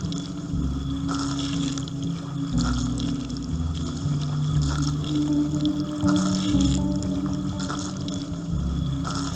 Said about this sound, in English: sprinklers don't have motors, they are propelled by the flow of water